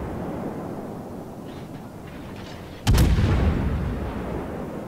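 A warship's naval guns boom in World of Warships, one heavy, sudden blast cutting through a steady rumbling background, followed by a long, fading roar.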